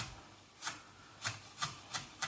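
A knife chops spring onions on a board in a quiet kitchen: five crisp, separate strikes at an uneven pace, close and fairly soft, with no talk.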